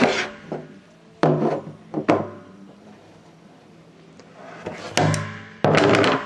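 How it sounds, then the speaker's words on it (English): A wrench tightens the cap on a blue plastic water-storage barrel, making a few hollow knocks and clunks with soft scraping and rubbing between them, close and without talk. "We're going to put the cap back on that. And we have the wrench there."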